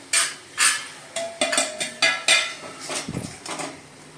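Spring onion greens being turned in a pan with a metal utensil, a run of about ten sharp clanks and scrapes against the pan in an uneven rhythm, close and clear, with no talking.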